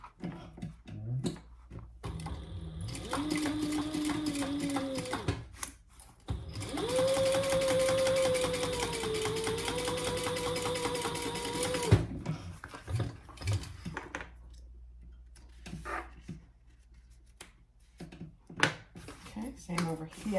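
A sewing machine top stitches a clutch wallet in two steady runs of fast, close whirring, with pauses and small handling clicks between them.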